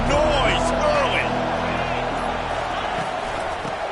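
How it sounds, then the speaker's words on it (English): A large crowd roars at a Florida football game, a dense, sustained wall of noise that fades slightly toward the end, with a commentator talking over it. "This crowd bringing the energy and noise early."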